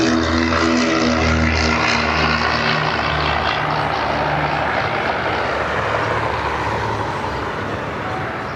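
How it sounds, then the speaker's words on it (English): General aviation propeller aircraft inbound to Cleveland Hopkins airport, a loud, close, steady droning engine and propeller roar that fades slightly toward the end. "GA aircraft inbound"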